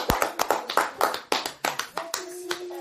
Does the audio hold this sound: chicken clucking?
no